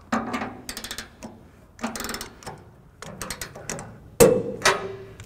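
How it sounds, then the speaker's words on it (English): A ratchet wrench torques down trailer hitch bolts on a 1992 Chevrolet truck in several bursts of rapid clicking, heard close and loud. A sharp metallic clank comes near the end, and nobody talks. "we'll go ahead and finish torquing down the rest of the bolts."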